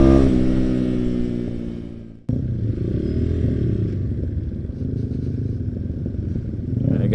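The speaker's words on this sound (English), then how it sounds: "this motorcycle's a real blast, bro. Okay. And it has mini backfires." A Rusi motorcycle engine hums and revs steadily while riding on a charity ride, with a sharp cut and clattery, popping texture suggesting mini backfires, loud and close with wind noise.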